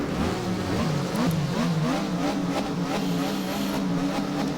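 Porsche race car engine in a racing video game with manual shifting, revving steadily at high pitch with repeated rising gear-change sweeps, loud and continuous without talking.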